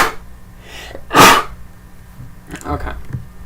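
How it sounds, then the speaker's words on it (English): A single loud sneeze up close, followed by a few quieter sniffles and breaths. "I need to sneeze."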